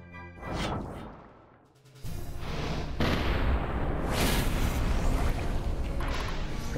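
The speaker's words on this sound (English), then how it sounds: "Blasted by a cannon here." A cannon blast in Symphony of War hits with a sudden crashing boom, preceded by a short whooshing swell, then settles into a sustained loud roar of battle noise and debris.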